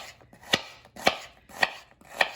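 A knife slicing an onion on a cutting board, four crisp, evenly spaced chops close up, with no talking.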